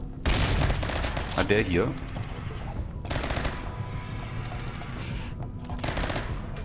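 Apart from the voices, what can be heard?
gunfire in the video game Rimworld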